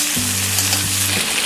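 Green peas tossed into a hot pan for sevai upma, a loud close sizzle burst with low clattering tones from the pan, brief and without talk.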